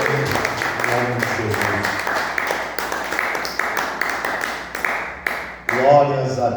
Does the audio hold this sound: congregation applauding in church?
yes